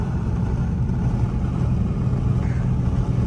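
Dodge Charger R/T engine and exhaust rumble steadily from inside the car while driving, a deep continuous drone that stays loud throughout with no talking.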